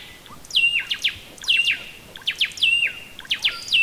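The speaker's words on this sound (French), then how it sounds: "On entend les oiseaux." Birds singing high in the trees in Ecuador, repeated bright whistled phrases with descending slurred notes in rhythmic bursts, moderately close over a quiet background.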